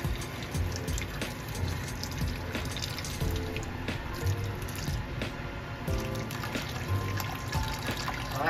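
Hot water poured from a thermos into a cooking pot of papaya and moringa soup, a continuous splashing trickle close by with small clinks, no speech.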